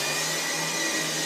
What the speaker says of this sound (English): The room with the interesting closet again being vacuumed out.